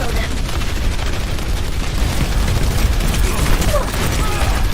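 Enemy gunfire in the video game Overwatch, a dense, continuous rattle of shots and blasts running the whole time, loud and busy, with game effects mixed in.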